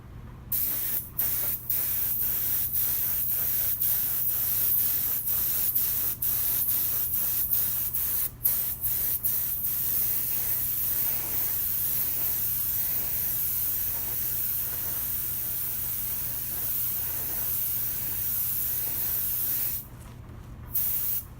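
Spray finish going onto a guitar neck for a second coat, the neck propped level on a 2x4 and a 1x2: a steady close hiss of spraying runs throughout, broken by brief pauses and short trigger bursts.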